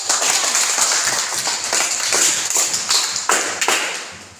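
Classroom students clapping hands in a junior high school math lesson, a lively burst of many hands with uneven, sharp individual claps standing out near the end, no talk over it.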